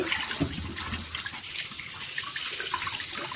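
Cleaned fish being rinsed in running water at a sink for Nellore-style fish curry, a steady close splashing and trickling stream throughout with no talk.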